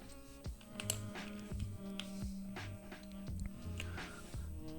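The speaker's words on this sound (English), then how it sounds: "let's put on all the keycaps" Keycaps being fitted onto a Thera75 mechanical keyboard, with a run of light plastic clicks and taps at an irregular pace, close and fairly quiet, over a steady low hum.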